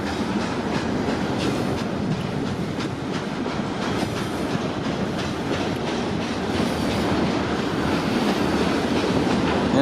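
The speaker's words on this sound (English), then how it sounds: "So two trains in this scene." Steady rumble and clatter of rail cars rolling past nearby in a rail yard, with rhythmic clickety-clack of wheels over track joints throughout, no voices.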